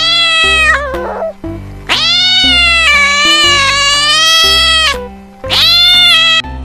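A cat yowls and meows loudly at close range in long, wavering, drawn-out cries broken by short pauses, rising and falling in pitch with a strained caterwauling edge and no voices heard.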